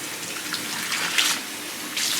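Water running from a tap as hair is rinsed at a salon basin after a perm, a steady close hiss with small splashing surges.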